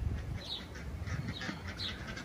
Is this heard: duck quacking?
yes